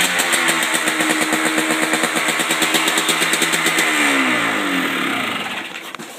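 A 2000 Yamaha Blaster ATV engine in gear revs up close and loud, a rough, rapid mid-pitched buzz that climbs briefly and then falls away as the throttle is released.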